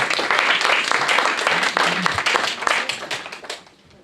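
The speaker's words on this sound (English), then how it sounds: "A round of applause, thank you very much." An audience at a magic show claps steadily in a dense burst of applause that gradually fades out toward the end.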